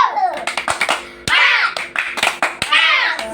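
Classroom of children in a physical education lesson performing a rhythmic clapping chant, sharp hand claps in bursts mixed with children's chanting voices, lively and close.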